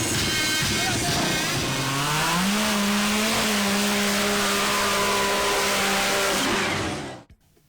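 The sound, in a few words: dune buggies, ATVs and motocross motorcycles racing on sand dunes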